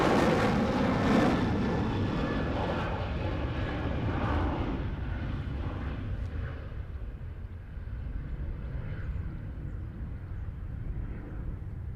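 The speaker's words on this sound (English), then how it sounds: "This one's going to Porto. Porto 737-800." A Ryanair Boeing 737-800 airliner passing by near Edinburgh Airport, a steady loud jet engine roar that peaks early and slowly fades as the plane moves away, with no talking.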